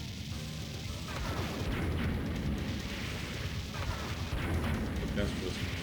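Rapid gunfire and explosions aimed at Destro's hovercraft in Konami's 1992 G.I. Joe arcade game, a dense continuous barrage of booms and bursts under steady game sound, with a person talking alongside.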